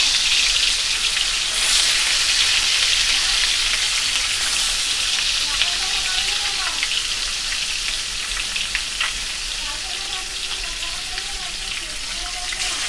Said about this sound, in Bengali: এবার তেলের মধ্যে দিয়ে দিলাম মাছগুলোকে